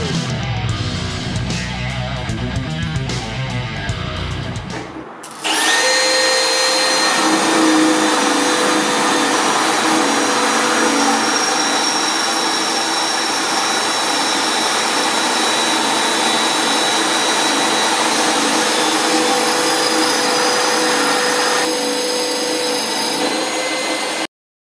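A cordless brushless drill bores into wood with a loud, steady high motor whine that holds for about twenty seconds after a rougher, noisier start.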